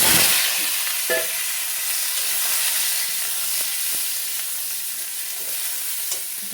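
Dried red chilies and five-spice seeds fry in hot oil as star fruit pieces are added, giving a steady, close sizzling hiss throughout with a few faint stirring knocks and no talking.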